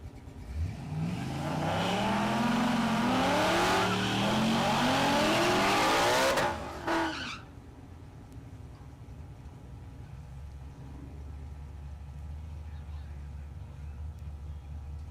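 A drag race car at Mid America Dragway in Geuda Springs, Kansas, launches and roars down the strip, engine pitch climbing through several gear shifts for about six seconds, then cuts off and leaves a distant low rumble.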